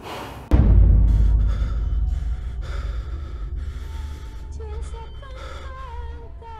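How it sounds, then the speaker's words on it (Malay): Fast, heavy breathing as a sound effect in a horror story, entering with a sharp onset and running steadily, loud and close, with no talk over it. "dia ada dengar ada nafas lain bersama dengan dia, yang turut bernafas laju macam dia."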